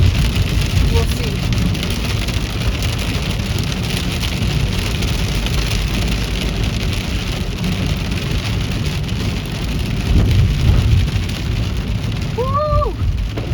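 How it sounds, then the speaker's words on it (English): Heavy rain from a severe thunderstorm pours down in a dense, steady roar close by, with a low rumble swelling briefly near the end; a voice is faintly audible. "Got a few good bolts of lightning. It just started,"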